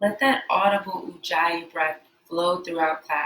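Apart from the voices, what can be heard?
No everyday noise stands out behind the speech.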